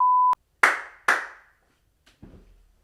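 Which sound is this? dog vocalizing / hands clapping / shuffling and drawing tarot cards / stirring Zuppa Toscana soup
hands clapping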